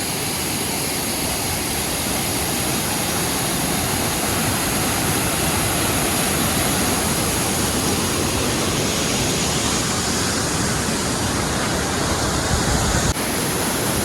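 Oliyappara waterfall in Anaikatti, near Coimbatore, pours as a dense, loud, steady roar of rushing water heard up close, with no pauses.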